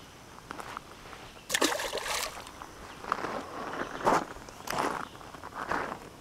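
Footsteps wade back through a shallow creek while fishing for smallmouth bass, several uneven splashing, sloshing strides close by, each one a burst of churned water over a quiet running-water background.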